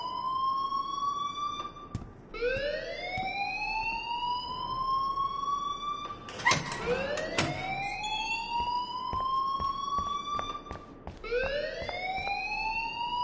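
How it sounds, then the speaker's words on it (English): A fire alarm in the video game Life is Strange wails in repeated rising siren sweeps that loop steadily and loudly throughout, with a brief crash-like burst midway. "please turn off that alarm since that's your job"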